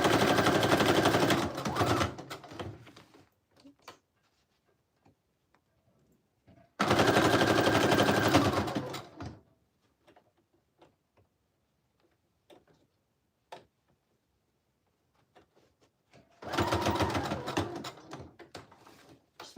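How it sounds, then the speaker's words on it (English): A sewing machine stitches paper pieces down onto a handmade fall and Halloween junk journal in three loud, rapid mechanical bursts of a few seconds each, separated by near-silent pauses with scattered small handling clicks. "Just making sure every little piece is sewn down."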